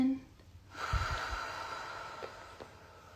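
One slow in-breath and out-breath during a mindful yarn-drawing exercise, a soft close airy exhale following a brief pause, with faint low thumps and quiet room noise.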